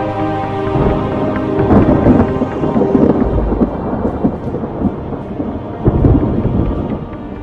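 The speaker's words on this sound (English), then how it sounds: "This is the storm of the century." A violent thunderstorm with heavy rain and rolling thunder during a hurricane over New Orleans, loud and continuous, with deep rumbles swelling and fading throughout.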